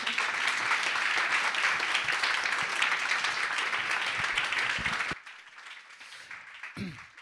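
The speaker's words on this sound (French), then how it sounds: "on peut peut-être les applaudir" An audience at a French-speaking community gathering applauds, a full, dense burst of clapping lasting about five seconds before cutting off abruptly into near quiet with a faint stray sound.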